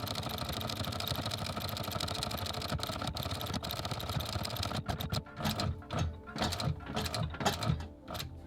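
A machine stitches a leather ring for DT 770 M headphone ear pads, giving a steady, quiet mechanical whir that turns into short uneven bursts near the end.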